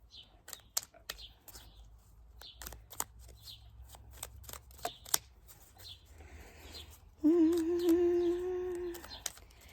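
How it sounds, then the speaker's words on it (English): Healing angel cards are shuffled by hand in quick, soft repeated riffles and taps, fairly faint, before a sustained tonal sound comes in near the end. "Let's pull a healing angel card."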